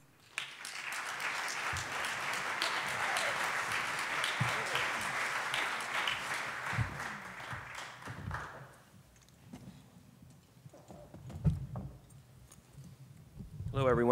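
Audience applause welcoming a panel at a policy summit, loud and sustained clapping for about eight seconds before fading into a few scattered claps and room noise, with voices at the end.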